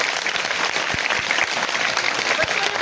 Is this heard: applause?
yes